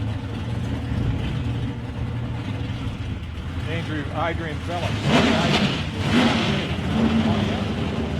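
A hot rod car rumbles past at a drag racing qualifying event, its engine swelling louder mid-clip over constant crowd and track noise, while someone talks over it.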